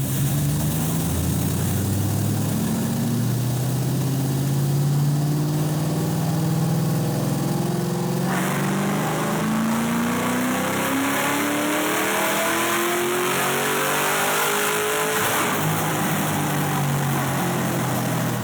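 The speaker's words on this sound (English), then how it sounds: "That was like our first wide open throttle run right there." A tuned Cobra car engine at wide open throttle, loud and close, revving up steadily in pitch, then shifting gear and climbing again under a constant high whine.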